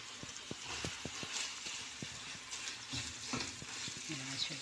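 An egg fries in a pan with a low, continuous sizzle, overlaid by a run of quick spatula taps and scrapes early on, then softer stirring noises.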